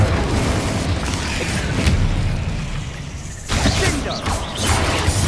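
Spell explosions in the Hogwarts Legacy video game: a dense, continuous rumble of booms and crackling bursts, loud and close, with a sharp pop near two seconds and a fresh wave of blasts after a brief dip.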